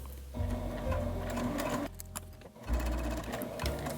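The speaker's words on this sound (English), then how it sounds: "I'm going to start stitching with a 3mm stitch length" A sewing machine runs steadily at close range, stitching bias binding onto a shirt with a 3mm stitch length, its fast mechanical whir and rattle pausing briefly once before resuming, with no talking.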